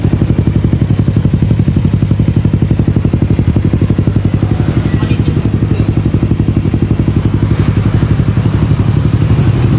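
A Honda Beat FI scooter idles close by, its loud Kenochi K2 aftermarket exhaust putting out a steady, rapid, raspy putter that holds throughout.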